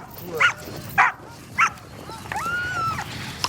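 Dogs barking outdoors in a remote wild area, three sharp evenly spaced barks followed by a drawn-out whining yelp, moderately close over a quiet background.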